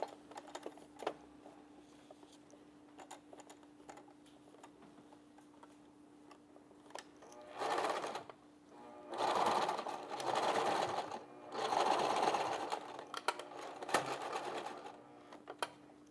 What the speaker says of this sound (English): now we're going to sew our neckband on